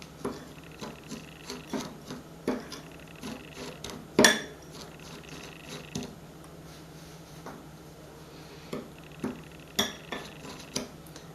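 A utensil taps and scrapes against a bowl while cheesecake mixture is stirred, a run of irregular clinks with one sharp knock, close and alone without talk.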